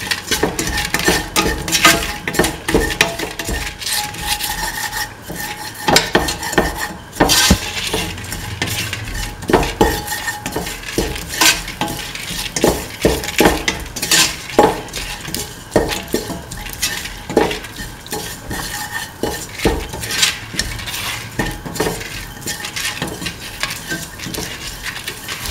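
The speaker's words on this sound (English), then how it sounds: "Mix the salt into the mixture thoroughly." A spoon stirs and scrapes through a thick mint coconut dip in a bowl as salt is mixed in, producing continuous clinks and scraping taps without talk.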